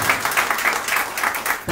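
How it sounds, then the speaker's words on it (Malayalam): An audience claps to welcome the host at an anniversary gathering of a Thrissur branch, a brief burst of close, dense applause that fades slightly at the end. "നമ്മുടെ അവതാരകയായിട്ട് നമ്മുടെ പ്രിയപ്പെട്ട അനാമികയെ കയ്യടികളോട് സ്വാഗതം ചെയ്യാം."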